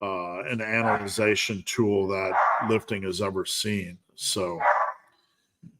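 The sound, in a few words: dog barking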